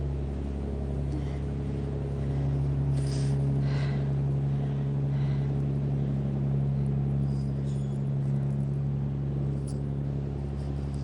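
Low, steady engine drone from a passing barge, with a strong hum and faint rumble holding evenly for about eleven seconds, no talk over it.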